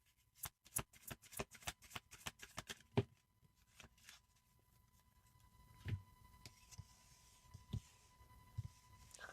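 Tarot cards are shuffled in quick riffling bursts, then drawn and laid down with soft, separate taps and slides, faint and close.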